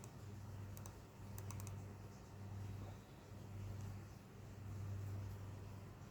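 Typing on a computer keyboard, a steady run of soft clicks under a low, continuous hum, moderately quiet and close with no talking.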